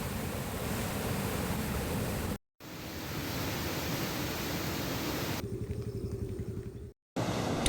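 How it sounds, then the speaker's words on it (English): Water rushing through two sluice gates opened two feet each at the Angamo Reservoir, released toward the Lunu Oya during heavy rain; a steady, loud broadband roar with two brief cuts. "2 sluice gates have been opened by 2 feet each. The water is being released to the Lunu Oya."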